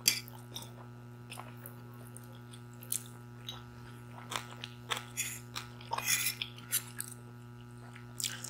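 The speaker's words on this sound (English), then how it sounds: "The bigger pieces of cabbage is crunchier." Close-up chewing and crunching of homemade cabbage coleslaw with larger shaved cabbage pieces, irregular bites and crunches over about eight seconds under a steady low hum, with no talking.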